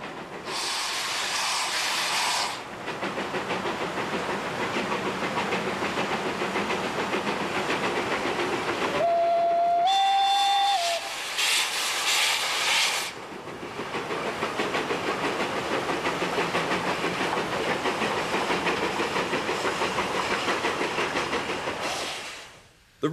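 A 1906-built Rhaetian Railway steam locomotive, kept in pristine condition, pulls away from the depot at Samedan near St. Moritz, loud and close, with steady chuffing and clanking carriages, a sharp whistle blast in the middle and the rumble fading out at the end.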